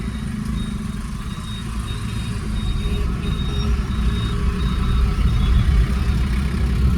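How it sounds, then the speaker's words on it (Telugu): Big lorries roll along a highway in a steady, close rumble of heavy engine and tyre noise that swells slightly toward the end, with faint high beeps repeating over the top. "అన్నీ పెద్ద పెద్ద లారీలు కూడా రైడే తిరుగుతున్నాయి మంచిగా"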